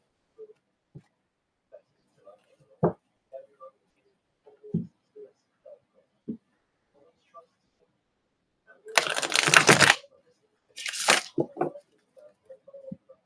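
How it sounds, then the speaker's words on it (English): A deck of tarot cards is shuffled in two quick bursts of riffling, preceded by sparse soft taps and handling clicks in a quiet room. "I'll give this a quick shuffle"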